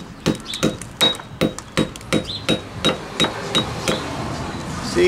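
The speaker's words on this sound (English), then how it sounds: "we also could use like the steel fluted nails, and they go into block pretty easy like this" Steel fluted nails hammered into concrete block, about a dozen sharp, ringing metallic blows in a steady rhythm, close and loud with no talk.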